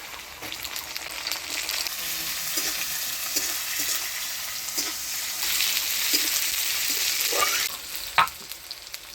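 Chopped onion and tomato fry in oil in a pan, a dense, close sizzle that swells louder midway, with soft stirring scrapes and a sharp knock near the end; no talking.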